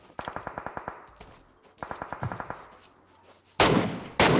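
PUBG Mobile gunfire rings out in two rapid bursts of about eight evenly spaced shots each, followed by two louder, heavier blasts near the end.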